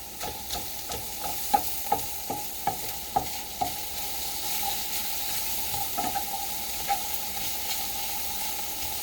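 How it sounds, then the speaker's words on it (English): Butter sizzles in a pan with onions, a soft steady frying hiss broken by a run of light, regular clicks and taps from stirring. "I'm going to put that other 2 tablespoons of butter in there."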